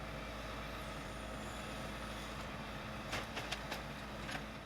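Waste collection trucks idle and rumble at a recycling sorting centre near Saint-Gaudens, a low steady engine drone with a few brief hissing bursts like air brakes near the end.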